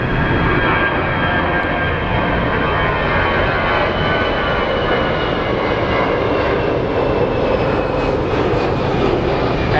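A jet airliner's engines roar steadily and loudly at Phoenix Sky Harbor, a broad continuous rumble with a hissing high edge holding across the whole stretch, no voices present.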